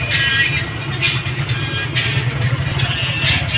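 Steady road traffic from passing cars and buses on a busy street slowed by roadworks, a continuous low rumble with occasional brighter swells of vehicles going by, moderately loud throughout.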